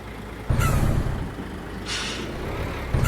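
Two hissing bursts of a truck trailer air brake in Euro Truck Simulator 2, on a Volvo truck, over a steady low engine rumble, close and loud with no talk.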